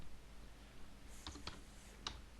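Quiet typing on a computer keyboard while searching Google for Fallout 3 crash fixes: a few separate light key clicks, three or four taps with short gaps, over faint room hiss.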